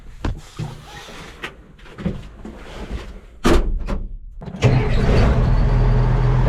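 A beat-up, rusty M35A2 deuce-and-a-half military truck with a loud turbo: a few clunks and knocks from the cab, then the engine catches and settles into a loud, steady diesel rumble close by.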